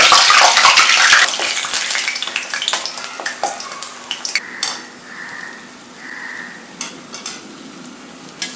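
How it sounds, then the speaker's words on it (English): Medu vada deep frying in hot oil: a loud, dense sizzle at first that settles into quieter crackling and bubbling, with occasional sharp pops and a soft hiss near the end. "We will go ahead and deep fry this."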